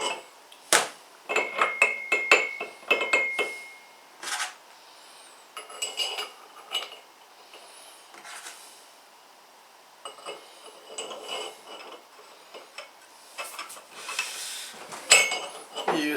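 Metal parts of a new, unused sausage meat grinder being handled and fitted together, including its cutting knife: a string of sharp close clinks, clacks and rattles in irregular bursts with quiet gaps between.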